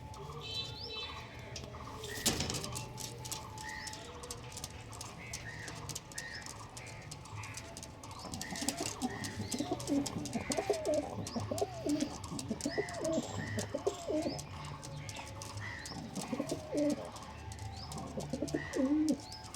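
Pigeons kept for sale coo repeatedly in soft, low burbling calls against a steady background hum, with faint chirps mixed in throughout.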